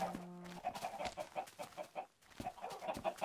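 Chickens in the Minecraft video game cluck in quick, repeated blocky bursts, close and clear, with a short tone at the start and no talk over them.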